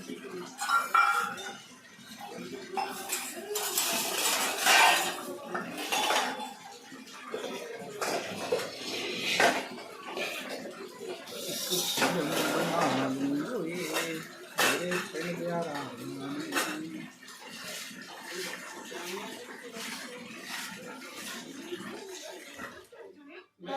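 Dinner dishes and utensils being washed, with intermittent clinks and clatters of pots, plates and cutlery against one another over bursts of running water, rising and falling in uneven waves.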